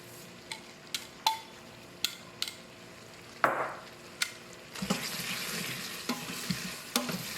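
Sausage and onions frying in an Instant Pot, with a steady soft sizzle that grows louder in the second half, broken by sharp clicks and scrapes of a utensil stirring against the pot.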